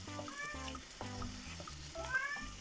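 A cat meows several times in a row at close range, each call short and fairly quiet, over a faint background hiss.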